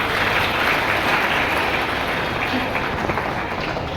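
Students at a school Independence Day celebration cheer and applaud during an awards announcement, producing a thick, continuous wash of clapping and crowd noise that stays loud and even.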